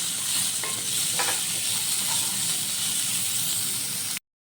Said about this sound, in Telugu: అలాగే కట్ చేసి పెట్టుకున్న క్యారెట్ కూడా బాగా ఫ్రై చేసుకోవాలి